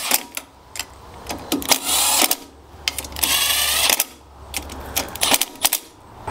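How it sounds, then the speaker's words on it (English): An impact wrench on a low setting drives the valve cover bolts of a Briggs & Stratton OHV engine, close up. Several short, loud rattling bursts come between sharp clicks and brief pauses. "start the bolts off on a low setting with my impact"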